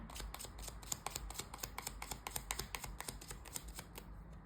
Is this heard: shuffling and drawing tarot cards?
yes